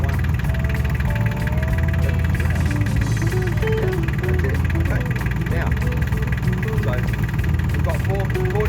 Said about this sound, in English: now we're going to move the tractor over under the trees